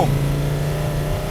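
A Volkswagen Touareg twin-turbo V10 TDI diesel SUV engine pulling loudly, its drone dropping as it shifts gear with a brief lag between gears, heard from inside the cabin.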